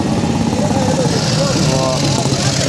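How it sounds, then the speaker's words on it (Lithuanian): An old motorcycle idles close by with a steady, throbbing engine rumble, while people talk loudly over it throughout. "O, koks fainas motociklas"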